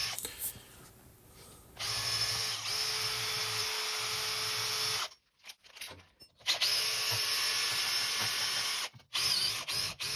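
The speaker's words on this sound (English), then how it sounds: "Metal wire brush." A power drill spinning a metal wire brush scrubs the wheel bearing housing of a Volkswagen Transporter Caravelle, a loud steady grinding whir in two long bursts separated by a brief pause, with some talk.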